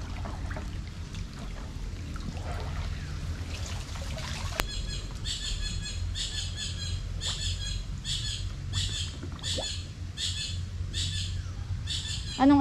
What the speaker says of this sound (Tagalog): Anong ibon yun